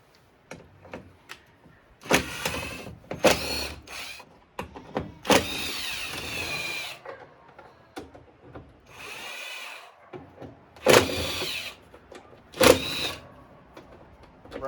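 A power drill backs screws out of a bracket during a 72v lithium battery install, firing in several short whirring bursts of varying length separated by pauses filled with faint clicks and handling noises.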